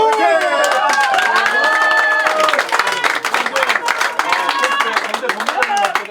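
A crowd at a Korean political party rally claps and cheers loudly, with dense applause throughout and shouted voices and cries rising over it.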